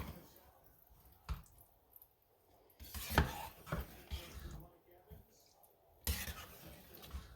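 Chili ingredients are stirred in a pot, producing irregular wet squelches and soft scraping knocks at close range, with quieter pauses between strokes.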